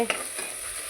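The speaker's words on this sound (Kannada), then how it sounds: "ಶುಂಠಿ ಬೆಳ್ಳುಳ್ಳಿ ಪೇಸ್ಟು ಇದು ನೀಟಾಗಿ ಈಗ ಫ್ರೈ ಆಗಿದೆ" Ginger garlic paste frying in oil in a pan for chicken biryani, a soft steady sizzle with a light stirring scrape near the start, close and alone with no talk.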